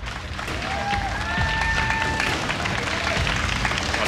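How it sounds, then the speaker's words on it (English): A crowd at the WCS Europe Season 3 Finals StarCraft event applauds player duckdeok with steady clapping that continues through the whole stretch, backed by a faint high tone and a low hum. "They clapped together."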